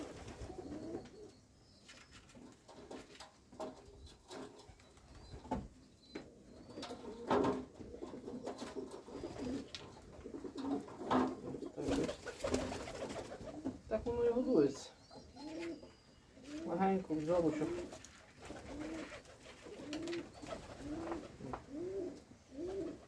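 Wood pigeon chicks cooing and squeaking while being hand-fed grain in a village setting, with repeated soft coos, someone speaking over much of it, and rhythmic cooing continuing toward the end.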